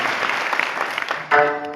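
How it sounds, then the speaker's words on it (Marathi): Crowd applause at a Marathi kirtan in Kolara village: a dense, steady clatter of many hands clapping that breaks off after about a second and a half as a voice and tonal sound take over. "एकदा जोरदार टाळ्या वाजवा."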